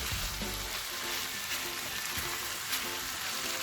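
Chicken frying in a pan gives a steady, dense sizzle with crackling, close and continuous, with no talking over it.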